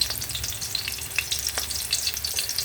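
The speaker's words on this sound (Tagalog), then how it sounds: "kailangan natin mag-gisa. Ang sibuyas muna" Onion and garlic sizzle while sautéing in a pan, a constant frying hiss with small crackling pops and no talking.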